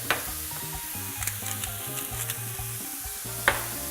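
Mushrooms sautéing in oil in a pan and being pushed around: a quiet sizzle with scraping stirs, sharp utensil clacks at the start and near the end.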